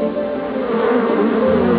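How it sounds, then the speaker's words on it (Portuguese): Swarm of bees makes a dense, continuous drone, loud and close, with a steady hum and no pauses. "um enxame de abelhas"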